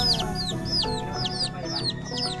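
Several hens and chicks cluck and cheep in a farmyard feeding area, sharp high peeps repeating in a quick rhythm over lower clucking, fairly close and steady with no talk.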